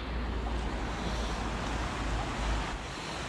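A high, swollen spring river rushes steadily past, giving a dense, continuous roar with low wind rumble and no talking.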